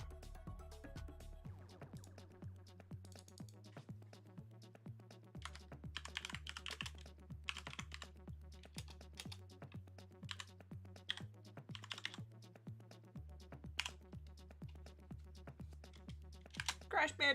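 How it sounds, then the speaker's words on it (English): Fast keyboard typing of a game title, Crash Bandicoot, sits quietly beneath steady background music with a repeating bass pattern, the clicks coming in dense clustered runs across the stretch. "I'm gonna write Crash Bandicoot."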